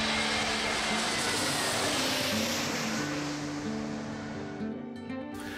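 A passenger airplane flies over Montreal, its engine roar broad and fairly loud, then slowly fading as it passes.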